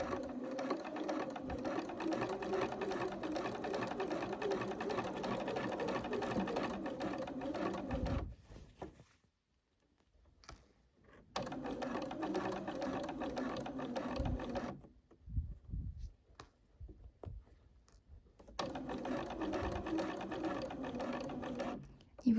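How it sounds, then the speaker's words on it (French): A sewing machine stitching fabric for a blouse runs in long steady whirring stretches, stopping twice into near silence before starting again, close and fairly quiet. "Donc maintenant, on va coudre sur les lignes roses."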